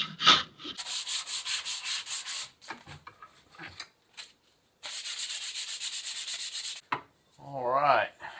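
Lemon wood dowel being whittled and shaped for a joiner's mallet: long bursts of rhythmic rasping strokes, close and fairly loud, separated by short pauses and a few knocks, with no talk.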